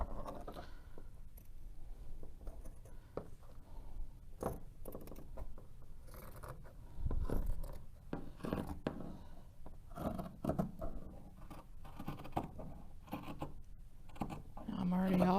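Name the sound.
cutting a T-shirt to make a tote bag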